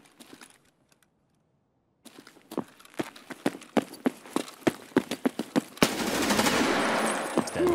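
Rapid gunfire in the first-person shooter Escape from Tarkov: a string of sharp, evenly spaced shots, moderately loud and close, after a brief quiet stretch, ending in a dense burst of noisy rattling.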